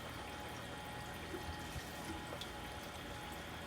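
Water trickles and pours steadily through a half-inch external siphon drain from grow beds, a faint continuous flow with occasional small drips.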